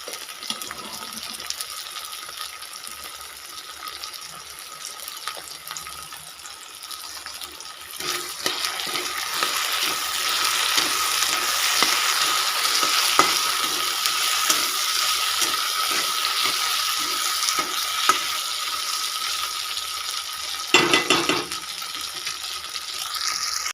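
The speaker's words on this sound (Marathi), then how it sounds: "आता आपलं मिश्रण चांगलं तळून घेतले आहे बघा" A garlic and rice mixture for khichdi fries in a pan, a low hiss that swells into a louder, steady sizzle partway through, with scattered small clinks and a brief louder rattle near the end.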